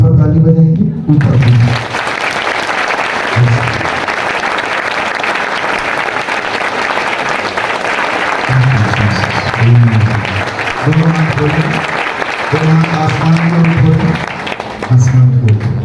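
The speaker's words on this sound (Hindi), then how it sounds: "ऊपर ताली बजाएंगे, ऊपर।" A church congregation at a prayer house in Rourkela, Odisha, claps hands overhead in a steady, dense wash of applause lasting throughout, with a voice speaking over it at intervals.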